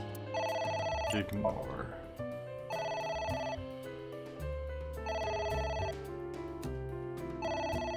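A phone rings insistently in a scene from the video game AI: The Somnium Files, its repeating bursts of electronic bell tone coming in regular cycles while a voice talks over it.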